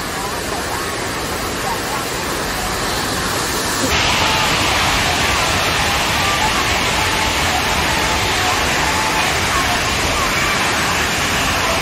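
Kuang Si waterfall in Laos roaring with a dense, steady rush of falling water, loud and close, continuing without a break and swelling slightly partway through.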